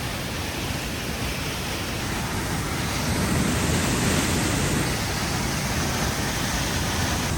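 Rushing water of a swollen river or waterfall in a misty, foggy forest, a loud continuous broadband roar that stays steady throughout with no voices.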